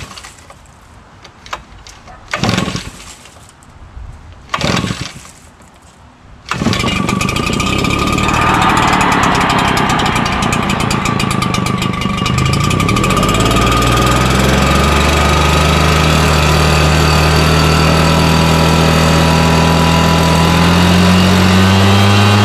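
A Toro 616Z zero-turn lawn mower's engine cranks a couple of times in short bursts, then catches and roars into a loud, steady run that holds to the end, with the throttle opening up.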